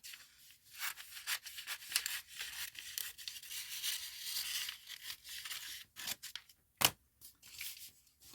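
Scissors snip through a paper sewing pattern for a shoulder slope adjustment, a close run of crisp rustling cuts with brief pauses and one sharp snap near the end, no talking.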